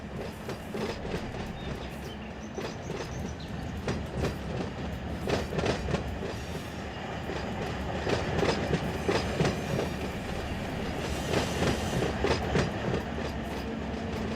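A freight train rolls along in the Run 8 train simulator, a continuous heavy rumble with rhythmic clickety-clack of wheels over rail joints and occasional metallic squeals, steady and close throughout.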